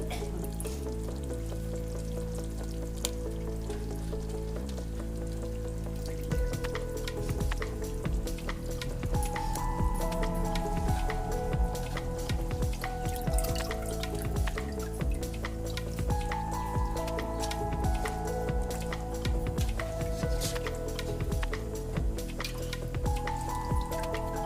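Spicy fish curry bubbling in a pot, a soft, steady simmer with scattered small pops and drips, quiet and close with no voices.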